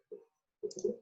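Calculator buttons are pressed, a few soft, close plastic clicks in quick succession after a brief quiet gap.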